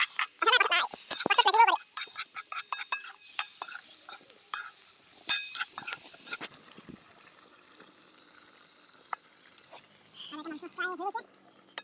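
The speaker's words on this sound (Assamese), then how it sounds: "আমাৰ মাংসখিনি ইয়াতে বইল হ'বলৈ দি দিলোঁ" Meat boils in a pot at a jungle campsite beside a tent, with clattery stirring and soft bubbling sizzle; voices talk near the start and again near the end.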